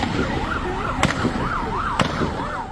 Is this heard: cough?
no